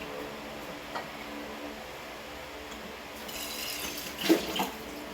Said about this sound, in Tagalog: Tapon natin ang water niya.